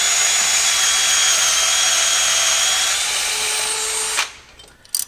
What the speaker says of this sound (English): Now, can we tap 2 crooked holes?